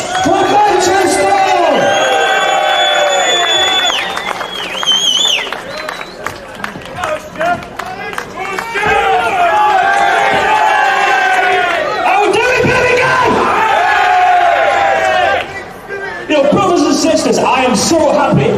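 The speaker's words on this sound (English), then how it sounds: "So please give a big round of applause for Stuart Roberts from Manchester!" A large outdoor protest rally crowd in Birmingham cheers, whoops and claps in loud, surging waves, with shouted voices rising over the noise and brief lulls between bursts.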